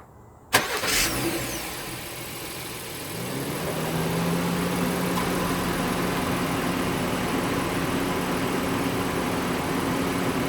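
A sharp click, then a 2018 Honda Pilot engine cranks and starts by key fob remote start, settling into a steady, even idle that continues close by.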